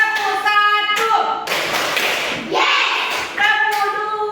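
A class of young children claps a rhythm pattern in bursts of noisy clapping, between stretches of children's voices chanting in unison.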